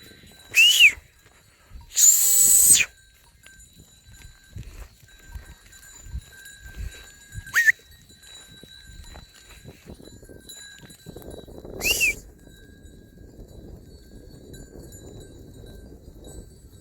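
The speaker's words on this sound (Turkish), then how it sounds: "Bugün koyunları buradan geçireceğim." A flock of sheep shuffles past, with a few sharp herding whistles ringing out near the start and a soft rustle of movement throughout.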